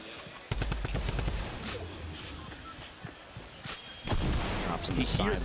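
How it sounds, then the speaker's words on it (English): Double-barrel shotgun blasts in Fortnite, sharp booming shots around half a second, near four seconds and again soon after, amid other gunfire and building noise while a commentator talks. "He hears the double barrel."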